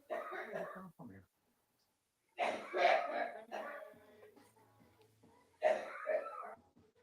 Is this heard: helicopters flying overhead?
no